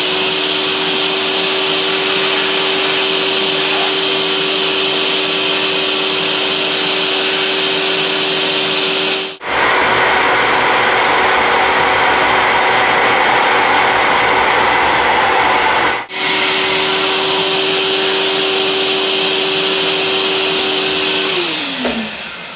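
A drill bores a 10 mm through hole in a lathe tailstock casting, a steady loud whine with a strong tone that breaks off for several seconds midway, resumes, and then winds down in pitch at the end.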